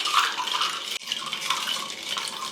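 Iced coffee being poured into a glass over ice for boba tea, a continuous splashing trickle with a brief break midway, close and fairly quiet.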